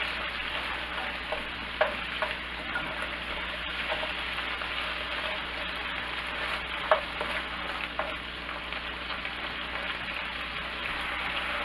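Small pork chunks frying fast in a hot pan, a steady broadband sizzle with occasional louder pops and crackles, close and continuous with no talking.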